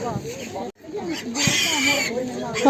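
Small piglets at a Ukrainian livestock market squeal and grunt at close range, high-pitched squeals running through the clip against the bustle of the market, with people talking nearby.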